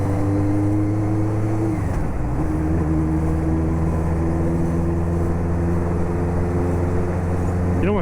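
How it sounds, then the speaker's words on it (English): A new motorcycle being ridden, its engine and exhaust droning steadily with a brief dip and pitch change as it shifts, then rising again at the end, loud and close under wind noise. "the engine noise. Like, and just the exhaust, like the whole engine note of it"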